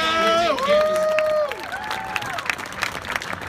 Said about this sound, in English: Give me a round of applause for Jantz Towing.